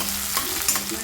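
Onions fried to light brown with fresh coriander and curry leaves crackle in a pan as they are stirred. A short burst of steady sizzling is heard close up, with light scraping strokes and no talking.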